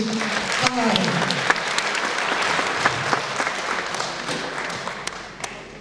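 An audience at an international symposium applauds students, with continuous, fairly loud clapping throughout, a few sharper claps standing out and a voice briefly heard near the start.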